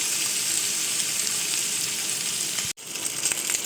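Onion, egg and chicken fry lightly in a pan for egg chicken fried rice, giving a steady, close, loud sizzle that holds evenly throughout, with one brief sharp dropout near the end before the frying hiss resumes.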